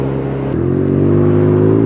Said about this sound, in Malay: Motor ni bunyi dia memang masyuk gila.